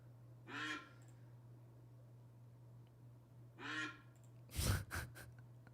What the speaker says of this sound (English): This duck just quacking in my ear.